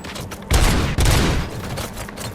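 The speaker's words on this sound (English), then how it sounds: "Gunshots? What's going on?" Gunfire in the video game Robocop: Rogue City, loud bursts of rapid shots that swell twice in quick succession over a roaring background.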